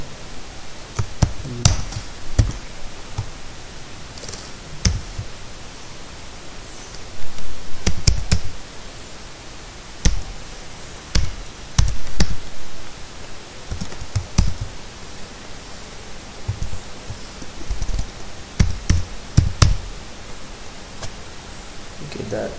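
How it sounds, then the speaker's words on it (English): Typing on a computer keyboard in Notepad comes in irregular bursts of close key clicks and taps with pauses between. A voice can be heard at times. "I will show you how to type that."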